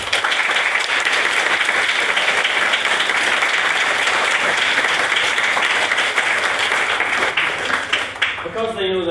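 Loud, steady applause from a debate-night audience honouring the evening's speakers, a dense wash of clapping that thins out in the final moment.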